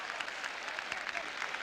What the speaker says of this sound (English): Very merited applause for centre forward Matateu